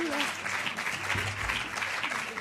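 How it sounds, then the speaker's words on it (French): Warm, sustained applause from a crowd at an OECD presentation, steady and fairly close, with faint voices mixed in beneath the clapping. "On peut tous les applaudir à nouveau, collectivement."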